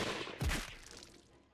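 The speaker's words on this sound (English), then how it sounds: "The air exploded with gunfire." A short burst of rifle fire in the video game Hakuoki: Kyoto Winds, a sharp crack followed by rapid echoing shots that fade out, fairly faint.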